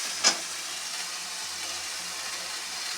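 Spices and tomato fry in oil in a pan for a meat dish, a steady, even sizzling hiss throughout with one sharp tap near the start and no talking.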